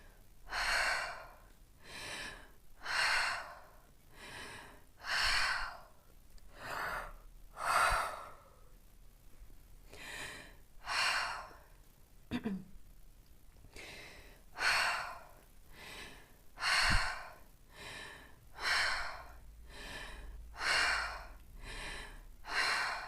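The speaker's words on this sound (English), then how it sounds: "We're breathing in deeply, okay? Or deeper, faster." Deep, fast breathing exercise in a grief and trauma coaching session: steady rhythmic rounds of loud, close breaths, each a rushing burst roughly every second or so, with brief pauses and no talking.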